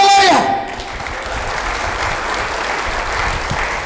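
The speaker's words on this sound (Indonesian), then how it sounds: "Berikan sorak-sorai buat Tuhan Yesus yang meriah" A church congregation bursts into loud, sustained applause and cheering for Jesus during a sermon, a dense wash of clapping that holds steady after a brief voice at the start.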